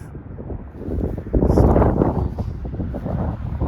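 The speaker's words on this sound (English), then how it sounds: "I'm fighting wind" Strong winter wind buffets the microphone while a recumbent bike is ridden beside Lake Winnipeg in February, a loud low rumbling roar that swells about midway and stays gusty to the end.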